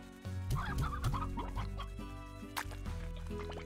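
Chickens cluck repeatedly in the Slime Rancher video game, a few bursts of fowl calls over steady game music.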